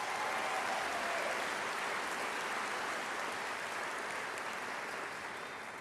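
A crowd at a high school commencement applauds. The dense, even clapping is soft and distant, holds steady for about six seconds and tapers slightly at the end, with no voices over it.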